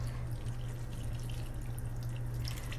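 Tap water runs steadily and fairly faintly as a blender is rinsed out in a kitchen sink. The rush is continuous over a low hum, with no voices.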